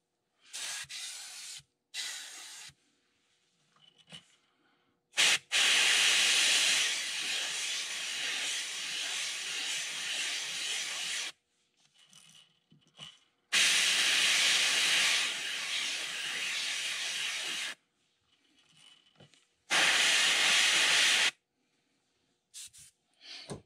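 Bursts of airbrush spray hiss as yellow eyes are painted onto a custom crankbait lure, with four loud sprays of a few seconds each separated by quiet pauses.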